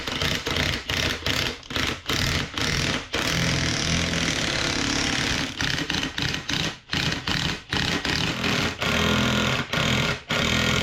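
A hydraulic or mechanical press drives ball joint deletes into a vehicle's lower and upper control arm, giving a steady loud mechanical whir broken by frequent short dropouts and pauses, with no talking.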